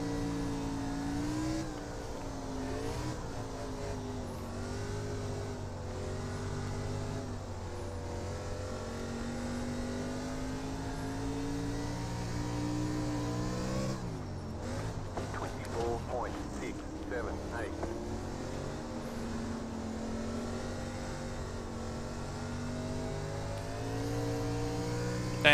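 An ARCA race car engine in the iRacing game at Knoxville drones under talk, its pitch climbing and dropping through shifts and throttle changes, with a busier rough stretch midway as the car drives on.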